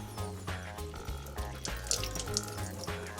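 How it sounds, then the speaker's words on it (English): Tap water runs steadily into a kitchen sink while fresh basil leaves are rinsed under it, a soft continuous splashing stream with small shifts and clinks, fairly quiet and without talk. "I'll just take them over to the sink for a bit of a rinse."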